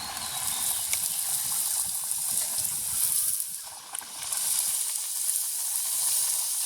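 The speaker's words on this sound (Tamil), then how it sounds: "எண்ணெய் கொதிச்சுட்டு தட்டி வச்சுருக்கிற பூரியை போடுவோம்" Puris deep-frying in boiling oil in a village kitchen, a steady close bubbling sizzle and hiss that dips briefly midway.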